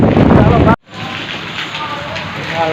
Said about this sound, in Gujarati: પવન વરસાદ પણ એવો છે જુઓ વરસાદની શરૂઆત થઈ જાય